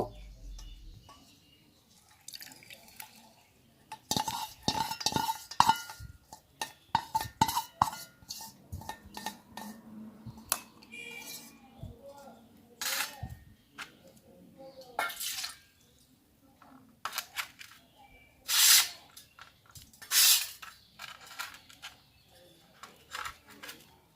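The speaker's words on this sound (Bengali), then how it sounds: "এবারে একটি চা করে তুলসী ফুলগুলিকে প্রথমে ছেঁকে নেব" Tulsi flower tea being strained, with scattered drips and small splashes of liquid falling into a vessel, close by and irregular, mixed with light clinks from the utensils.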